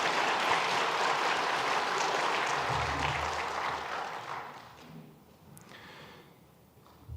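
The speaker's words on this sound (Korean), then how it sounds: "우리 큰 박수로 환영하겠습니다" A church congregation claps during a Sunday worship service to welcome a newly arrived couple; the dense applause fills the first few seconds, then thins out and fades away.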